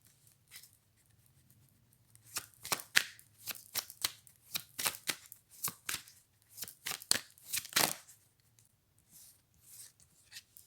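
Playing cards shuffled several times, a series of crisp riffling bursts with brief pauses between them, close and moderately loud over faint low hum, no talk.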